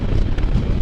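Heavy wind roars across an open microphone outdoors on a warm, very windy day, a steady, loud, broadband rush that never lets up.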